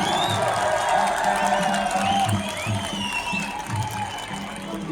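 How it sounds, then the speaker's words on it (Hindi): An audience at a Ladakh award ceremony claps and cheers in a steady, loud wash of applause lasting several seconds, with a voice talking faintly underneath. "इनके लिए खास तालियों की मैं गुजारिश यहाँ पे करना"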